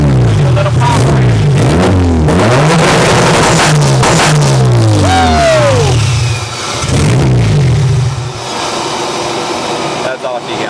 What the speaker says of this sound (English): Pops and bangs from the El Camino.